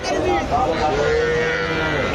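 A young calf at a cattle market gives a loud, drawn-out moo close by, set against steady crowd chatter and market noise.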